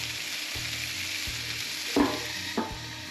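Brined, rubbed butterflied chicken legs frying in oil on a griddle, a steady close sizzle with a faint regular ticking beneath and two brief louder spatters.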